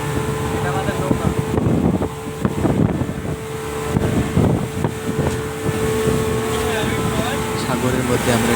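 A speedboat skims across the open sea toward Coral Island off Pattaya, its engine droning steadily beneath rushing wind and splashing water, while people talk loudly over the ride.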